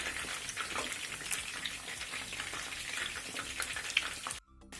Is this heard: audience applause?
no